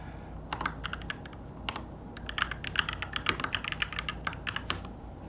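Quick bursts of clicking keystrokes on a computer keyboard, close and clear, coming in uneven clusters with short pauses between them.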